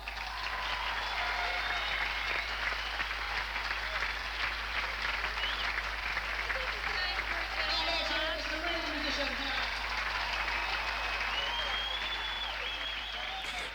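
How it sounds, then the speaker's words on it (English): An audience at a Melbourne concert applauds a string ensemble, a dense, steady wash of clapping sustained for about fourteen seconds, with some voices mixed in. "Melbourne, give a round of applause."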